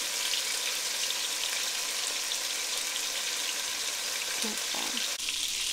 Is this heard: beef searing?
yes